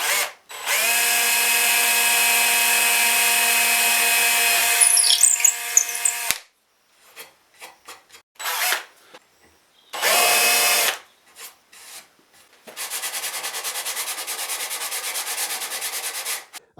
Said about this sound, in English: And we can just drill that out.